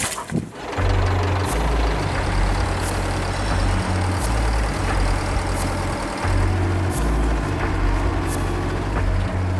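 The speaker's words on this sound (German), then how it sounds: "Der Bagger gräbt neben dem LKW eine Grube, damit wir besser arbeiten können." Heavy diesel engine of an excavator digging a pit beside a truck stuck after a river crossing on an offroad track in Bolivia, droning loud and steady with pulsing throttle changes and sharp metallic clanks.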